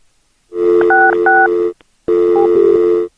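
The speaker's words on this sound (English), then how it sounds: "She tried to dial, and my timing was a little off with the soundboard." Touch-tone telephone dialing heard as two bursts of steady DTMF tones over a line hum, the first with several distinct key presses, then a short silence before a second burst with a few more tones; loud and close, no talking.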